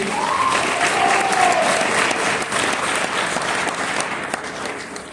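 Sustained audience applause fills a football awards show for Ponoka bantam and peewee players, steady and loud throughout with crowd noise and a brief whistle-like cheer early on.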